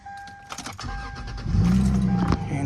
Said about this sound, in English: gonna start the car up real quick